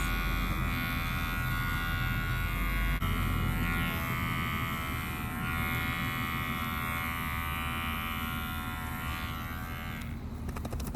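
Electric clippers trimming a dog's fur, a steady close buzz running continuously for the whole stretch with slight changes in tone as the blades move across the coat.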